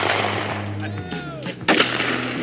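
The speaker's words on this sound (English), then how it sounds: "letting me shoot his Glock" A Glock pistol fires at an outdoor shooting range. One sharp, loud shot cracks late in the moment, with a voice heard in the background.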